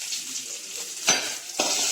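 Shallots sauté in hot oil with popped mustard seeds and dried red chillies for a snake gourd kootu, giving a steady sizzle and two brisk, close spatula scrapes.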